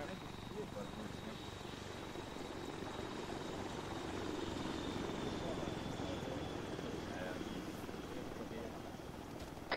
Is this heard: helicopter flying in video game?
yes